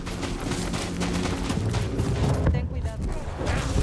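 Dense gunfire and blaster fire from the Star Wars Jedi Survivor video game rattle almost continuously under game effects, with a player speaking over the action.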